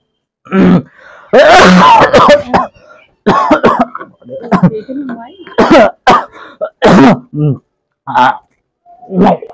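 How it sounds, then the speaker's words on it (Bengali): Repeated harsh coughing and throat clearing up close in a home during cooking, bursts spaced across the stretch with brief pauses, mixed with strained vocal sounds. "কাশি হচ্ছে গো সরি গাইস কাশি হচ্ছে"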